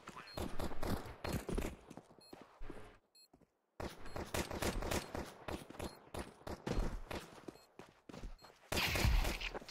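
Counter-Strike 2 gunfire: dense rapid bursts of shots with a short silent gap, then a loud final burst, close and punchy, with a player's voice talking intermittently underneath.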